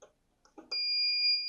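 Alarm board on a Focus Cobra 69s single-pass direct-to-packaging corrugated cardboard printer gives a loud, steady two-tone electronic beep that starts abruptly and holds, after a few brief mechanical clicks and knocks.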